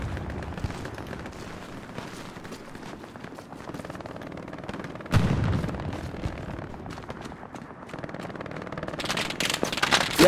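Machine gun fire from a gunner in a brick building during a video game shootout: dense, loud bursts of rapid fire with heavy booming impacts, growing sharper and more intense toward the end.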